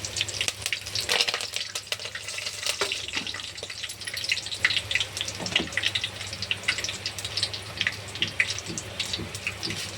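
Curry leaves go into hot oil with garlic that has already browned, for dal khichdi, giving a steady, close, hissing sizzle that holds evenly throughout with no talking.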